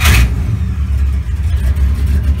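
Car engine revving to test a GM one-wire 100 amp alternator, a loud close rumble that rises briefly at the start, then holds at a steady raised idle.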